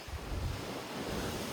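Ocean waves roll against the Italian coast, a steady close wash of surf mixed with gusty wind buffeting the microphone.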